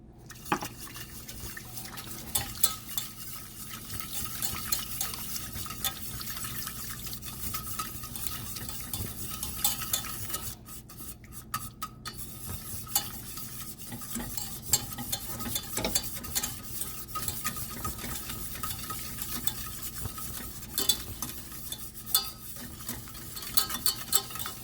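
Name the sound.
stirring sauce with milk to remove lumps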